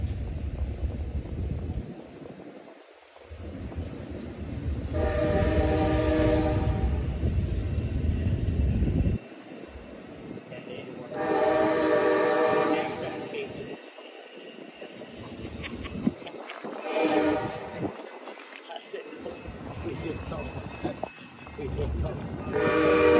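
A westbound Amtrak Sunset Limited passenger train, led by locomotives 147 and 192, rumbles past close by as its horn sounds in several long, loud blasts separated by pauses, with heavy low-pitched noise throughout.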